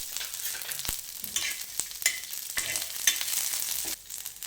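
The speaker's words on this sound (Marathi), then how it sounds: "त्या मिरच्या चांगल्या भाजायच्या आहेत तेलामध्ये।" Green chillies and garlic fry in hot oil for stuffed brinjal, a steady close sizzle with occasional pops and the scrape of a spoon stirring the pan.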